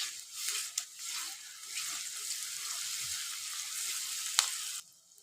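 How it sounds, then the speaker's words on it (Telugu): Ginger paste and turmeric fry in hot oil for a tomato and ridge gourd curry, a steady close hiss with a few sharp crackles and pops before it cuts off near the end. "ఇప్పుడు ఈ రెండు మంచిగా మనము ఆయిల్లో అయితే ఫ్రై అయితే చేసుకోవాలి."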